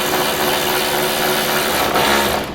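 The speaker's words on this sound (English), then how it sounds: "power tools are the best thing ever." A power tool whirs steadily and loudly up close while a rear spoiler is reinstalled on a 2020 Kia Stinger GT, a continuous buzzing drone with a brief surge near the end before cutting off.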